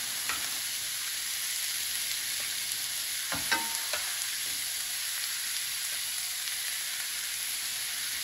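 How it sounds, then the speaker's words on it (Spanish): Chicken fries over low heat in a pan for Salvadoran chicken in cream, giving a steady, even sizzle that runs throughout, with a few faint stirring clicks and no voices. "ahora yo lo que voy a hacer es volver a colocar el pollo. Con fuego bajito lo tengo ahorita."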